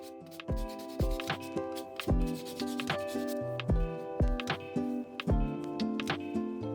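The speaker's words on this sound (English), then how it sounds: "you can sand the surface with sandpaper once the clay is completely dry" Sandpaper rubbing over dry air-dry clay berries, a series of short, close scratchy strokes in an irregular rhythm with brief pauses between, heard alone without talk.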